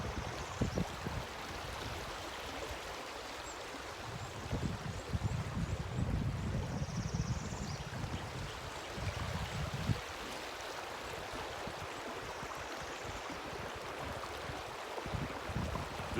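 River water flowing at Low Water Bridge in the Uwharrie area, a steady broad rush with gusty rumbles, heard at a quiet level and unbroken throughout, without voices.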